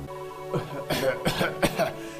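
A character in Dragon Quest 9 coughs several times in quick succession, close and fairly loud over a faint musical background.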